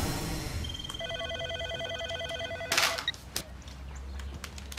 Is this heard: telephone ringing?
yes